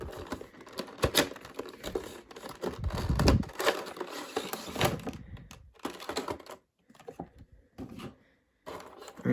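Plastic packaging around an action figure is pried open up close, producing crinkling, clicking and snapping bursts with short pauses between them.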